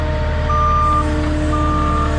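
A truck's reverse alarm sounds two long, steady beeps over a loud idling diesel rumble as the delivery truck carrying Sheetrock backs in, close and continuous.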